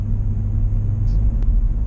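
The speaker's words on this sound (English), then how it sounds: "We're in the Corvette right now, coming home from the river." Corvette Z06 cruising home on a road, its engine giving a steady, close low rumble from inside the cabin with no talk over it.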